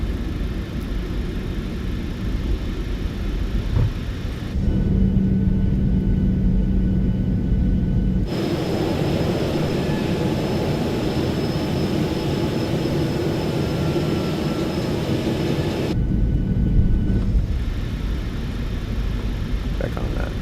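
A PMDG Boeing 737-800 auxiliary power unit spooling up while the airliner taxis in at Las Vegas, simulated in MSFS 2020; a loud, steady broadband rumble and whine that shifts in tone and level several times.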